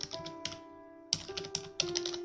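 Keys clack on a computer keyboard as the CTRL+V shortcut is pressed: a few close, crisp taps spaced irregularly, then a quicker cluster of keystrokes under a soft background tone.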